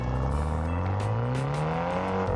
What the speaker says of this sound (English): super powerful engine in this tiny little car